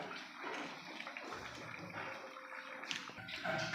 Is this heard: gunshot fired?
no